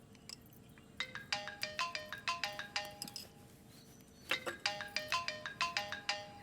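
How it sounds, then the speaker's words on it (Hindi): A mobile phone ringtone signals an incoming call, with bright repeating chime-like melodic phrases in two bursts separated by a short pause, heard clearly over faint room background. "इसलिए माँ का फोन है"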